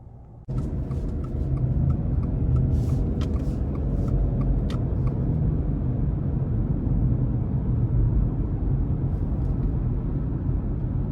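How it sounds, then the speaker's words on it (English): A 2021 Subaru Outback Limited drives on the road, heard from inside as a steady low engine and road rumble with tyre noise that stays even throughout, after a brief quieter moment at the start. "we're gonna go ahead and take this 2021 Subaru Outback Limited out on the road for a quick test drive."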